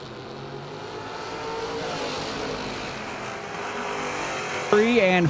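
Drag racing cars, including a 2002 F-body Camaro, roar at a Labor Day drag strip event as engine noise builds steadily, then a sharp rising rev bursts in near the end, with an announcer talking over it.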